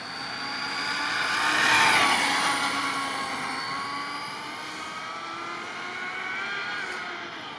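A JLB Racing Cheetah 21101 RC car on a high-speed run, a loud sustained electric motor whine that builds to a peak near the two-second mark, then holds steady at high revs before easing slightly.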